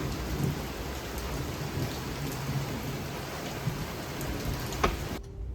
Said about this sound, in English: it actually started raining super hard and it was really loud outside